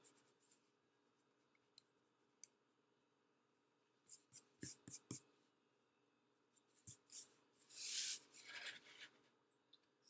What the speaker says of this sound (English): If you want, you can erase your guidelines